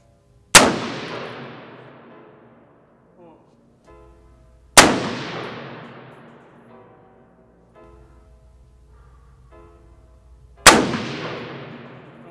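Three loud, sharp gunshots from a gun fitted with a 3.5-pound Rise Armament drop-in trigger, fired several seconds apart outdoors, each ringing out with a long decaying echo, with faint sounds between the shots.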